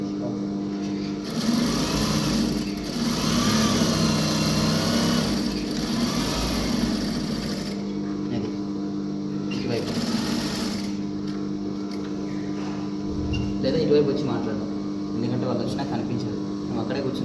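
A sewing machine runs steadily while stitching a shirt collar, its motor whirring continuously for long stretches with brief slowdowns, heard close up beneath a person talking.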